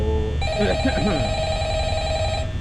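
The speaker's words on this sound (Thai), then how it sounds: "เดี๋ยวโทรศัพท์ก็มาอีกแล้ว" Phone ringing in the Five Nights at Freddy's horror game at night two, a steady electronic ring starting abruptly and sustaining loudly, with brief chirping tones early on.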